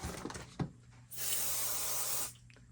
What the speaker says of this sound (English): spray the hoop